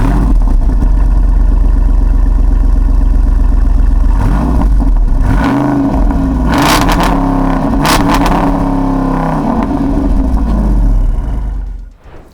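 Jeep Wrangler Rubicon 392 V8 engine revving hard off-road, a loud, continuous throaty roar with rising and falling revs and sharp blips before it fades out at the end.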